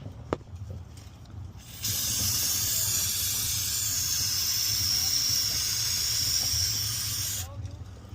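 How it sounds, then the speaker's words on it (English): Brake cleaner spray can blasting oil off a Nissan Stagea during an oil change, a loud continuous hiss lasting about six seconds, set over a low engine-bay rumble with short quieter stretches before and after. "I'm going to grab a can of brake clean,"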